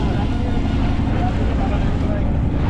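A motor trawler chugs across open floodwater in Netrokona, its steady engine drone and water rush continuous and close, with wind buffeting the microphone throughout.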